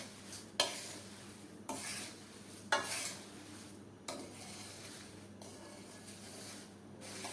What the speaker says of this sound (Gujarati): આ રીતે ઉપર નીચે કરતા જવાનું છે અને આપણે શેકતા જવાનું છે